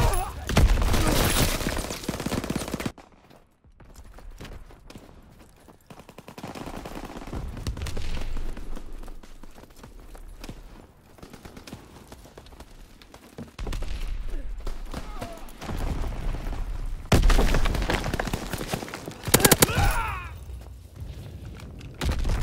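Gunfire bursts from ruins on a Call of Duty WW2 battlefield, with dense crackling volleys and booming impacts coming in waves, dropping off briefly before loud firing resumes, while game voices call out now and then.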